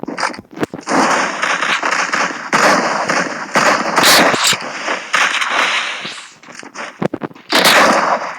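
Rapid gunfire from the Free Fire battle-royale game, with loud, dense bursts of shots and crackling reports that repeat in clusters across the whole stretch.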